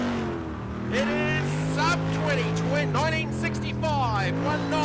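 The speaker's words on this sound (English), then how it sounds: "Just the acceleration of this boat, the way it sits in the water, is pretty staggering." A V8 superboat with a 583 cubic inch methanol-injected LS Chev engine accelerates at a Cabarita race round, a steady heavy engine drone beneath continuous commentary.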